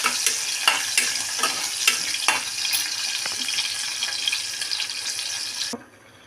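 Spices and a bay leaf frying in a pan for a chana potato curry, a steady close sizzle with scattered crackles and a few stirring clicks, running continuously until it drops away near the end.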